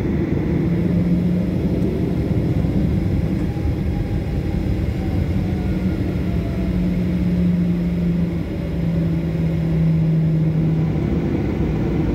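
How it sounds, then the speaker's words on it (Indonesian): A steady, loud low rumble of jet engines heard from inside a Garuda Indonesia plane at Jayapura airport while another plane lands, continuous throughout with a faint tonal drone. "sebelum lepas landas kita juga sempat nungguin satu pesawat landing lagi sebelum kita masuk ke runway"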